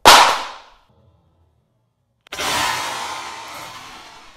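An iPad Pro dropped face down from 3 feet: a sharp slap on impact that rings out and fades, followed by a second of silence and then a broad rushing wash of noise.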